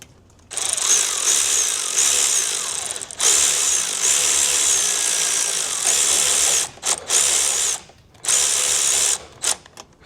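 A ratchet tightens the clamp on an aftermarket intake pipe for a 6.7 Powerstroke, making a close, loud, high whirring that runs in long bursts broken by several short pauses.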